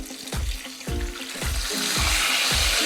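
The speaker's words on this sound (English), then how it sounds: "So let's give it a flip." Pork chops fry in a hot pan with a steady sizzle, broken by about six repeated low thumps and scrapes as they are flipped and pressed. The hiss grows louder and fuller toward the end.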